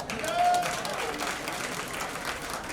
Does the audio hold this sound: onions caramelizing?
no